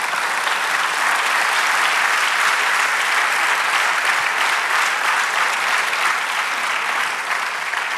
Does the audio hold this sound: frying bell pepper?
no